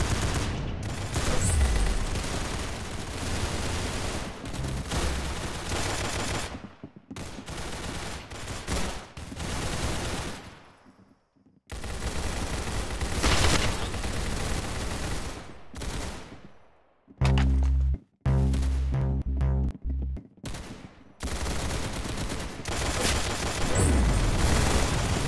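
Rapid bursts of gunfire in the shooter game Arsenal, automatic volleys and single shots crackling loudly in clusters separated by short silent gaps, with no speech.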